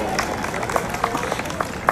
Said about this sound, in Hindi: तालियां बच्चे के लिए।